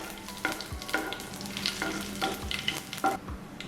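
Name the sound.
crushed garlic frying in oil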